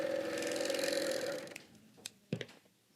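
A Bernina serger stitches fabric with a fast, even mechanical whir for about a second and a half, then stops, followed by a few sharp clicks and taps close by.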